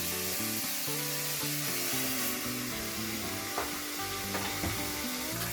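Korean rolled egg omelette (gyeranmari) sizzling steadily in vegetable oil in a pan, a continuous close fry hiss with a few soft clicks of a utensil, no voices.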